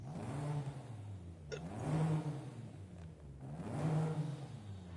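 A Volvo car engine in the video game Forza Horizon 5 revving up and settling twice in a rising and falling pattern, close and steady, with no speech.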